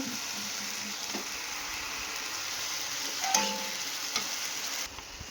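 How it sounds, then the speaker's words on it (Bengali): Onions fried until reddish sizzle steadily in a pan as ginger-garlic style paste and chopped tomato go in, a constant hiss with a couple of sharper spits and clicks near the end before it briefly quietens. "পেঁয়াজটা লাল লাল করে ভেজে নিয়েছি এবার দিয়ে দেবো পেস্টটা দিয়ে দেবো টমেটো কুচি"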